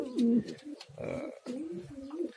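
An ornamental pigeon coos in low, throaty bursts, three or four soft rolling calls heard close up with short gaps between them.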